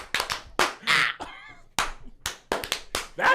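Rhythmic church-style hand clapping, sharp close claps in short uneven bursts at moderate volume, with brief vocal sounds between them.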